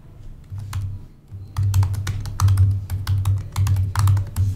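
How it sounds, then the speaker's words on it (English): Steady typing on a computer keyboard, a close, busy run of key clacks that pauses briefly before resuming in quick irregular bursts, with no talking. "I'm just gonna type it in here"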